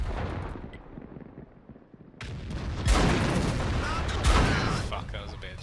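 A tank cannon firing in World of Tanks from a VK 45.02 (P) Ausf. B, a loud heavy boom followed by a second blast and rumbling battle noise, with a voice talking in the clip.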